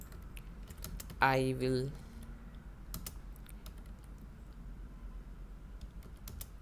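Computer keyboard keys clicking in short, scattered bursts while Python code is typed, fairly faint and close, with someone briefly speaking near the start.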